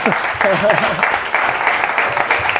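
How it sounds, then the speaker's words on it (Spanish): Audience applause at a rural cultural event in a Spanish village, a steady dense clapping that fills the whole stretch while a voice talks loudly over it. "Creo que merece un fuerte aplauso, Carlos"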